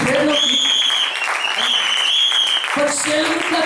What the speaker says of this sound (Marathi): टाळ्या वाजवा लेडीज साठी